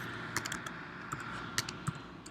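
Typing on a computer keyboard into a Spotlight search: quiet, scattered key clicks in an irregular rhythm over a steady background hiss.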